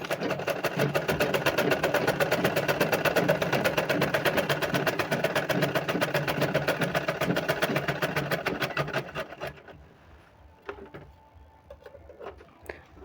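Sewing machine stitching the waistband of a Patiala salwar, a fast even run of mechanical clicks for about nine seconds that then stops, leaving a few faint handling taps.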